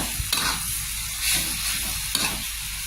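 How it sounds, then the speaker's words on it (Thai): Jackfruit stir-fried with red curry paste in a pan, a steady sizzle broken by three or four scraping stirs in an even rhythm, close and loud with no talk. "เราผัดเข้ากันดีแล้ว"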